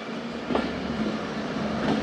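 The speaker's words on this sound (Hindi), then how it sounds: "ट्रेन पहुंच रही है हमारी कोट अद्दू जंक्शन" A train pulls into Kot Addu railway junction, a steady rumbling roll with faint rail clatter and a low hum throughout, moderately loud and continuous with no voices.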